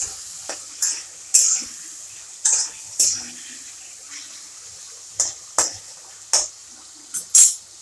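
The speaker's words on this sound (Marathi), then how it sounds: "वांगे मस्त तेलात तळून घेऊ आपण।" Eggplant frying in oil crackles and sizzles softly, broken by a series of sharp scraping and stirring strokes at uneven intervals, close by, with no talking.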